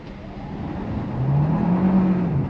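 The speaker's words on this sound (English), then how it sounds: "Let's do a test acceleration again just to see how we roll." 2024 Kia Sportage Hybrid with a 1.6-litre turbo engine accelerating hard, a rising engine whir and drone climbing in pitch over a couple of seconds, heard from inside the cabin.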